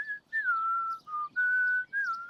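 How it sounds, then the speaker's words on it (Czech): A person whistles a wavering tune in a few sustained, slightly sliding notes broken by short pauses, clear and close, with no talking. "Pískání je potřeba dlouho cvičit."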